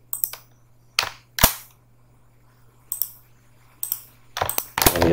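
Keystrokes on a computer keyboard while working in CorelDraw, a handful of sharp clicks in small clusters separated by quiet pauses, close and crisp, with a faint steady hum underneath and no speech.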